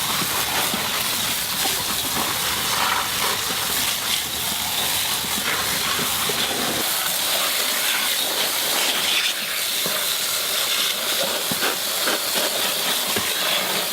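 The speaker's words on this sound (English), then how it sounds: "So why don't we take these and we'll go wash them off with the hose real quick." A garden hose sprays water over freshly picked pattypan squash, a steady, loud hiss of spray that runs continuously with small shifts in texture as the stream moves.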